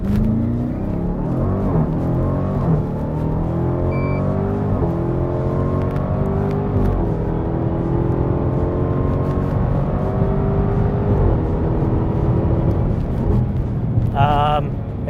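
A 2021 Dodge Durango SRT Hellcat launching hard down a drag strip, its supercharged engine roaring loud and close as it climbs through the gears with rising whine and steady revving for the full run.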